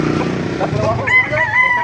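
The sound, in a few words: rooster crowing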